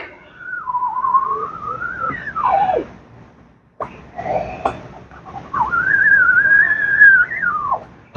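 A squeegee drawn across a screen-printing screen, printing ink onto t-shirts, gives off sustained, wavering whistles. Two long tonal passes with a short pause between them, fairly loud and close.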